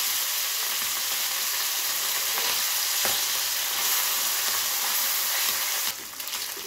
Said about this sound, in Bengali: বন্ধুরা দেখুন মাছগুলো খুব ভালোভাবে ভাজা হয়ে গেছে